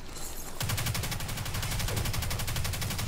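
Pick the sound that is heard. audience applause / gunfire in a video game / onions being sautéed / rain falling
gunfire in a video game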